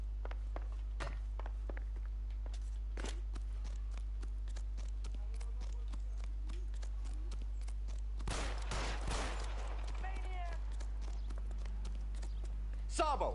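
Gunfire in the crime video game L.A. Noire, a few sharp shots and a dense burst of rapid fire midway, over a steady low hum with footsteps and talk around it.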